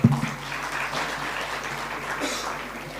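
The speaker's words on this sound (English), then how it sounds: "please let's show our appreciation with another round of applause." An audience at a national clinical pathologists' conference in Nepal applauds in a steady, dense wash of clapping heard from within the hall, with a faint voice briefly under it.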